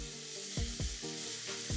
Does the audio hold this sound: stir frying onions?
yes